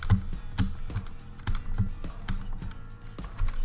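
Rapid clicking keystrokes on a sensitive computer keyboard during a Roblox obby game, close and steady with irregular rhythm, no voices.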